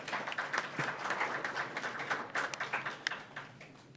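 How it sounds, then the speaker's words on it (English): An audience at a school governing board meeting gives a round of applause, a steady patter of many hands that sounds soft and somewhat distant, with no talking over it. "please give them a round of applause"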